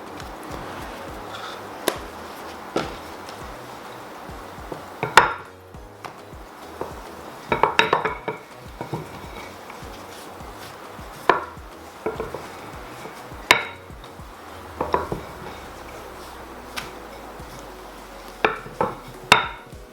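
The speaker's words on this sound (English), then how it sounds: "Now we're going to roll them out to about a thickness of around 4mm." Garlic naan dough being rolled out on a floured kitchen work surface, with soft scraping and rolling under a quiet background and irregular sharp knocks and taps of the rolling pin against the counter.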